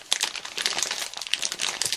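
A crinkly plastic snack packet of nuts is crumpled and pulled at by hand, giving a busy run of close, sharp crackles and rustles.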